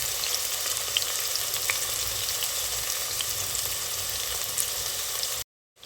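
Onions sizzling and frying in a pan for a mixed vegetable sabzi, a steady close crackle with faint stirring, ending in a sudden cut to silence.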